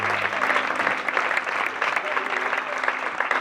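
A church congregation claps together in sustained, full applause during a worship service, an even roar of hands with a faint low hum beneath.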